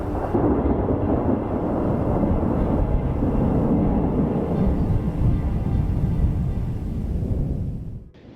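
Thunder following a lightning strike, a loud, long rolling rumble that sustains for several seconds and then fades out abruptly.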